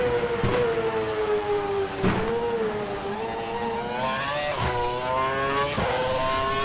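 A Formula 1 car engine in the F1 2012 racing game whines loudly and steadily as it drives into the pits at the Indian circuit, with pitch wavering up and down and a few sharp clicks or bumps between.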